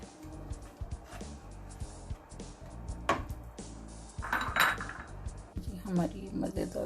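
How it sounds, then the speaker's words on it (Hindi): Fennel recipe ingredients stirred together in a bowl with a spoon, giving close, irregular clinks and scrapes of metal against the dish, some sharper knocks among the softer rustling. "अच्छी तरह मिक्स करना है आपने इसे।"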